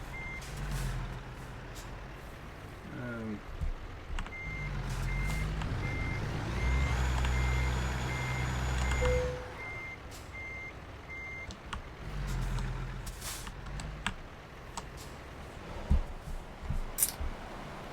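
A truck backing up a trailer in American Truck Simulator, with a steady run of reversing beeps over a deep idling engine rumble, an air brake hiss and then later clicks and knocks.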